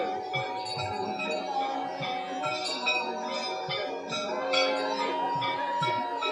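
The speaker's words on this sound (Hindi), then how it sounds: "घंटी हाथी के सूंड में बंधी हुई है।" A bell tied to an elephant's trunk rings with steady, overlapping metallic tones at Raman Reti, set against a busy crowd murmur.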